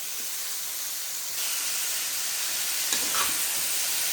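Vegetables such as broad beans, radish and drumstick sauté with tomatoes in a pan for prawn kulambu, giving a steady close sizzle and hiss that swells slightly partway through, with no talk.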